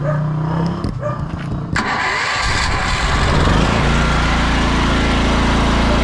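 A small engine cranks and catches, sputtering through a few uneven tries before settling into a loud, steady running drone close by.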